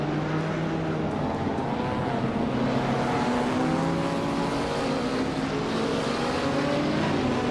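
A 2016 Subaru Impreza WRX STI races from pole in a driving game, its engine droning steadily with rising and falling tones alongside other cars, loud and continuous with no talking.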